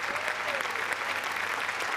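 A studio audience at the Marathi comedy show Chala Hawa Yeu Dya claps steadily, a dense, loud and even wash of applause for the whole span.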